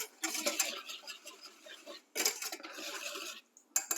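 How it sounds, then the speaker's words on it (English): A whisk rattles and scrapes briskly against a pot of peach pie filling heating on the stove, in quick clattering bursts with a short pause between them. "So I'm going to let this come to a boil while occasionally stirring and whisking."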